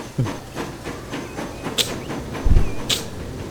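Mechanical railway clanks and thumps with sharp hissing bursts of steam from the Flying Scotsman locomotive in Transport Fever 2, a game engine soundscape, no voices.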